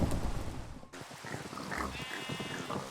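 Pig grunts and squeals from a pen of adult pigs and newborn piglets in modded Minecraft TerraFirmaCraft, short animal calls scattered over steady game ambience with no speech.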